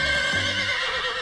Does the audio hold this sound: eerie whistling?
no